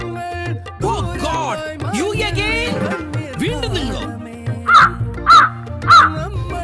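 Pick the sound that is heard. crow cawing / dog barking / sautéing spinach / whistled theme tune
crow cawing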